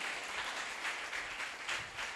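An audience claps for volunteers in a dense, steady burst of applause that holds at an even level throughout. It sounds moderately distant, with no talking over it.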